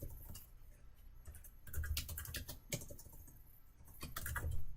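Rapid, uneven clicking of a computer keyboard as a file name is typed, close and fairly quiet, with short bursts of keystrokes and brief pauses, no voices.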